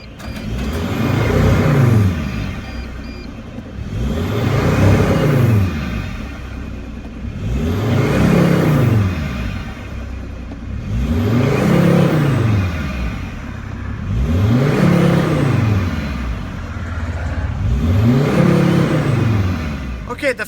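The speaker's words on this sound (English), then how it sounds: "the first couple of revs after restarting the engine were kind of like a little bit rough" A Mercedes Sprinter van with a turbo underboost fault (code P299) is revved after a restart: six rising-and-falling engine revs at a steady rhythm, close and loud, each swelling for about two seconds before dropping back to idle.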